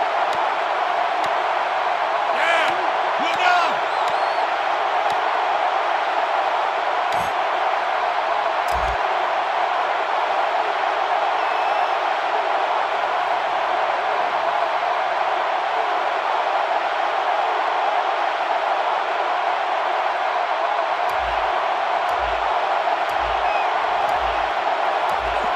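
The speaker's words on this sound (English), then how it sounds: "The crowd at this stadium always a factor in a football game." Steady stadium crowd roar in a college football video game at Clemson, a constant broad wash of massed fans held at an even level throughout, with faint thumps and brief clicks toward the end.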